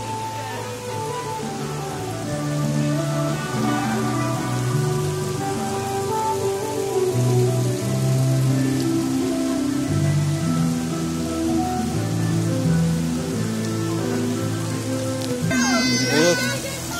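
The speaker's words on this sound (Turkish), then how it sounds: "Kayaların üstünden yağmur yağıyor gibi" Steady broadband rush of water pouring over rocks in Safranbolu, Turkey, sounding like heavy rain, with voices talking over it throughout.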